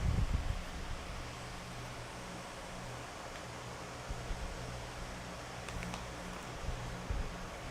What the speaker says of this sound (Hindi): अरे कूलर इसके सारे पंखे सब ऑन कर रखे मैंने। ये नाइट्रो 5 है, एसर का नाइट्रो 5 है